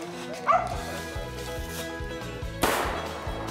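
A hunting dog barks at a fox squirrel up a tree, giving a steady run of close, repeated barks and yips over a constant musical backdrop, broken by one sharp, loud crack partway through.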